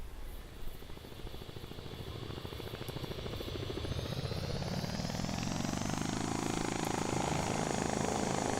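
A helicopter engine spools up in the ArmA military video game, a whining turbine and rotor chop rising steadily in pitch and loudness over several seconds, continuous and fairly close with no talking.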